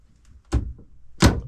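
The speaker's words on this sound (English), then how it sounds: "Doors feel very heavy," A heavy door on a North Pacific 43' pilothouse yacht swings open and then shuts, giving two separate solid thunks close by with a short quiet gap between them.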